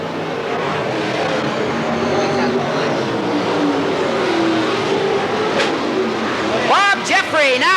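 Race cars roar around the Willamette Speedway track in 1991 in a dense, continuous engine drone. Near the end, sharp rising and falling engine pitches sweep past close by, while a race announcer talks over the noise.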